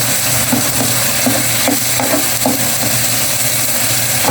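Ginger is sautéed in a pan for squid adobo, with a steady sizzle of frying and a soft, rhythmic series of spatula stirs and scrapes running throughout.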